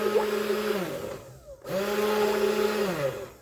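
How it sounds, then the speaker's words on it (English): A stick blender whirring in liquid soap mixture, two short bursts with a rising motor whine, a brief stop in between, then running again close up. "you can stick blend this for almost like 7 minutes, but do short bursts"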